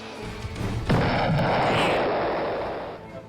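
Explosions in the NES game Die Hard, a sharp booming blast followed by a long rumbling roar that slowly fades, loud and without speech.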